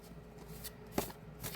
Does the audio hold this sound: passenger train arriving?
no